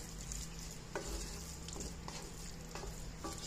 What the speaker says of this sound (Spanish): Lo van a mezclar bien.